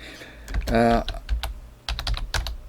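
Keys clatter on a PC keyboard in quick, uneven taps and clicks, close and fairly loud, with a brief voiced sound partway through.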